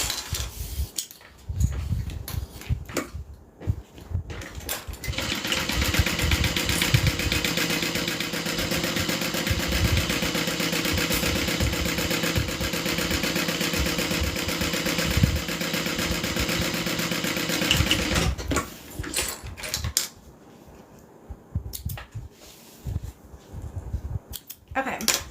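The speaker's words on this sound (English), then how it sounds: "we're just going to sew along the top." A sewing machine stitching along the top edge of fabric runs in a steady, continuous mechanical whir for about thirteen seconds, with handling noises and pauses before and after.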